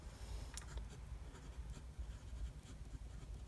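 An Aurora Talentum fountain pen with a medium nib scratches softly across paper in short continuous strokes, close and quiet, with slight feedback audible and no voices.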